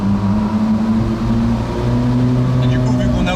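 A Ferrari 458 Spider's V8 engine drones steadily from inside the car with a rear window open, a continuous mid-level hum and whine that builds slightly toward the end.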